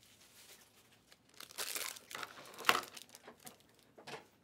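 Trading card packs torn open and their foil wrappers crinkled, close up, with a sharp rip partway through and scattered crackles, no talking.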